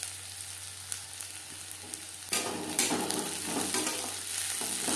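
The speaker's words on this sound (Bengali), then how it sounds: "রসুন থেকে স্মেল বেরোনো শুরু করা পর্যন্ত নাড়াচাড়া করে দেব।" Garlic fries with onion in a pan while being stirred; a soft hiss builds into a louder, steady sizzle with scraping stirs, close up and with no talking.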